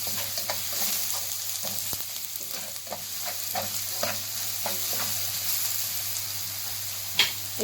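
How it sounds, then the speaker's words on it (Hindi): Garlic and ginger paste sizzles in a hot karahi under a steady frying hiss, with scattered scraping stirs and one sharper clack near the end. "हम इसी कढ़ाई में लहसुन और अदरक की पेस्ट ऐड कर देंगे।"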